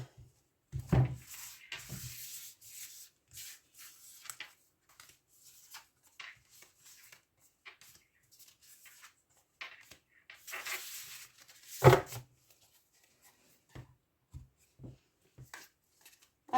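Tarot cards are shuffled, drawn and laid on a table, making soft scattered slides and flicks with two louder bursts of card handling amid quiet gaps.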